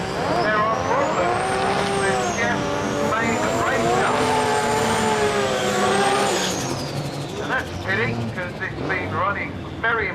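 An HKS drag series race car at the PTM Show 2010 drag event makes a pass. Its loud engine revs rise and fall in pitch, then turns into choppy, stuttering bursts as the tyres hop.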